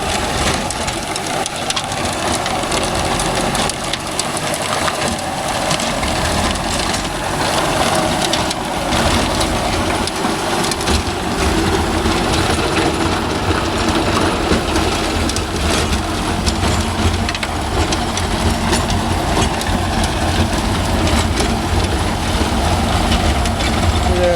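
A Mahindra 605 DI tractor pulling a rotavator through farmland, its diesel engine chugging steadily and loudly for the whole stretch with a rough, low rumble and no talking.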